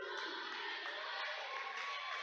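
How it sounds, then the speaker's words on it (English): Crowd at a high school basketball game, Caldwell County Tigers against Dawson Springs Panthers, yelling steadily for a three-point shot as the clock runs out, a dense faint roar of many voices. "Crowd yelling three."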